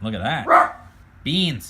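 A pet dog gives a short, sharp bark at close range between stretches of someone talking.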